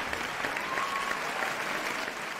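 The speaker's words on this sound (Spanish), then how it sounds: "Aplausos. Un aplauso." Steady applause from a crowd after a concert, dense continuous clapping at moderate distance with no voices standing out.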